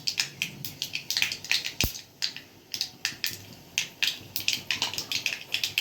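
Mustard seeds and dry fenugreek crackling in hot oil while tempering a Gujarati vegetable dish, with dense, irregular sharp pops and snaps close by, one louder burst partway through.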